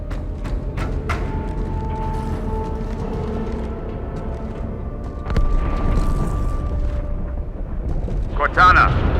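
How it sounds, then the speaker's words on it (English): A deep, rumbling explosion from inside a starship in the Halo 2 video game swells over a humming game soundscape, with scattered clanks and a sharper burst near the end. "That explosion came from inside the Athens, same as the Malta."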